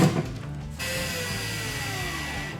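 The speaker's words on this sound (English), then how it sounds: "and then you tighten down your screws." Screws are tightened down on an electrical box being mounted in an existing wall, making a close, ratcheting mechanical whir that runs steadily after a brief clattery start.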